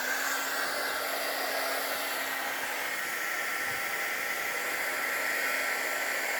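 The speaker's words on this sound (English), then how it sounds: "I'm going to grab my heat tool, and it's going to take a few seconds to heat up" An embossing heat tool blows hot air for paper butterfly crafting, a constant loud whooshing hiss with a faint hum, steady throughout and alone.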